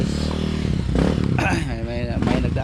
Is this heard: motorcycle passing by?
yes